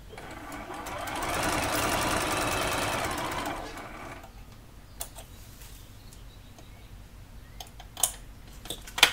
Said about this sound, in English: See how I was able to just sew right on that line that's provided by the foundation